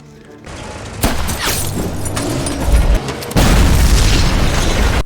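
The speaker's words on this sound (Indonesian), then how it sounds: "Bambi langsung berhasil menembak salah satu truk itu, disusul oleh ledakan bom yang sedari tadi mereka persiapkan." A film battle scene: a gunshot strikes a truck and a bomb detonates, giving loud booms and shattering bursts followed by a sustained roaring blast and crackling debris.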